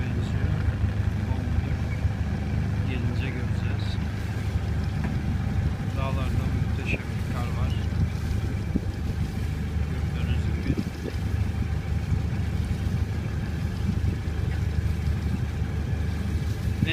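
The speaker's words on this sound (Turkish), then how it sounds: "oradan bir balıkçı teknesi daha geliyor" A fishing boat engine drones steadily in the distance off the Rize İyidere coast under constant wind rumble, with people talking faintly now and then.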